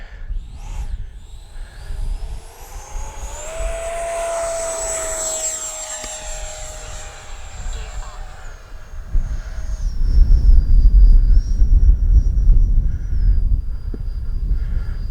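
An FMS Futura 80mm RC jet whines past in a rising, sustained tone that peaks overhead and then drops in pitch as it moves away, leaving gusty wind noise behind.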